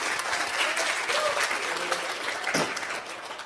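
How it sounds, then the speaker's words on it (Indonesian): Audience applause during a conference talk, steady loud clapping from a crowd in a hall that continues throughout and fades slightly at the end. "sok silakan mau tepuk tangan."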